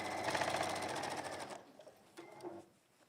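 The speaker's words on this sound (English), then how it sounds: "sew a straight line" A sewing machine runs fast, stitching a straight seam on a textile bag for about a second and a half, then stops abruptly, leaving faint room sounds.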